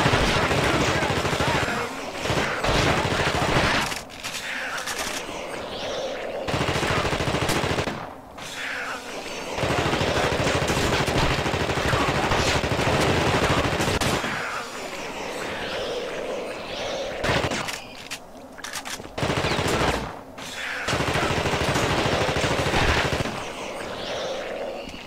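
Gunfire from The Thing on PC rattles in long, loud automatic bursts separated by brief pauses, harsh and dense, with occasional quieter gaps.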